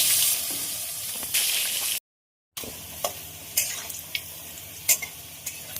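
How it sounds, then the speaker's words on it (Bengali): Potato pieces frying in hot oil, in a pan used for bhetki fish; a steady crackling sizzle runs close by with brief stirring clicks, broken by a short moment of total silence. "ওই তেলের মধ্যে আলুগুলো ভেজে নেবো।"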